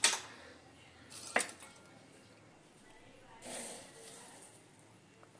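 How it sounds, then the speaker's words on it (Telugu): A kadai (wok) is set down on a kitchen stove while amla pickle is being made. A sharp metallic clank lands in the middle of a quiet room, with softer knocks and shuffles before and after. "మనం ముందుగా కడాయి పెట్టేసుకొని"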